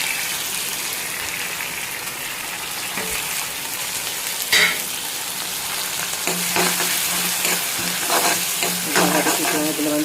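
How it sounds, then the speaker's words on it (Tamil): Shallots and tomato sauté in a pan with a loud, continuous sizzle, stirred with occasional scrapes and bursts of hissing as ingredients are moved around. "சின்ன வெங்காயம்ன்றதால சீக்கிரம் வதங்கிருச்சு."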